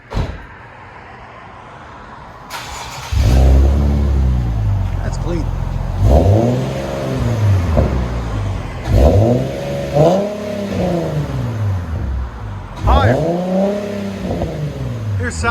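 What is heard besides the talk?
Infiniti G37 3.7L V6 revving, Invidia Gemini cat-back exhaust, resonator delete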